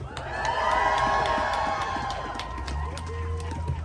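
A large crowd at an abortion rights protest march in Boston cheers and shouts to welcome a city councilor, a sustained roar of voices that swells and then thins slightly, with a voice speaking over it.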